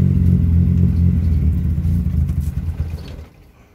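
A Nissan B13 car engine with an idle problem runs at a low, steady rumble close by, then fades away near the end, with no talking.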